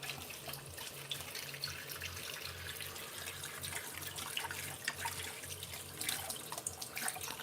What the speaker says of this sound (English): So let me clean the whisk.